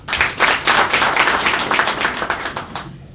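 A crowd at a Democratic Party anniversary event in Kruševac claps for its guests, a thick, even wash of many hands that holds steady and tapers off near the end.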